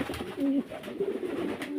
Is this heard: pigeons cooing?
yes